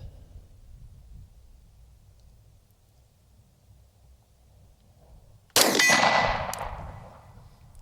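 After several seconds of quiet low rumble, a single loud gunshot cracks out and rings off into a decaying metallic tail.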